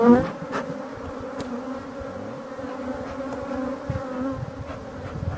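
Honeybees buzz close up around a hive in a steady, dense drone, with many wings humming together and no talking.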